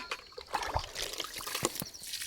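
Water drains out of a household water tank at night, a faint, continuous trickling and splashing with small irregular drips and no voices.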